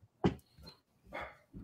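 A small dog gives a few short, sharp barks and yelps, widely spaced with quiet gaps between them, close and fairly faint with no talking.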